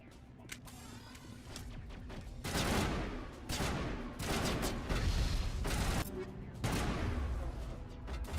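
Sniper rifle fire in the Mass Effect trilogy game rings out as a series of loud, close blasts spaced a second or two apart, backed by ongoing combat noise.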